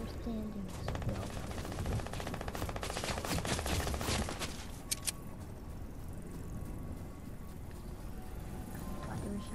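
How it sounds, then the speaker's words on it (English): Rapid automatic gunfire in Fortnite, a fast rattling burst of shots over several seconds, moderately near, followed by quieter background game noise with faint talk. "Thought there were shots coming at me for a second."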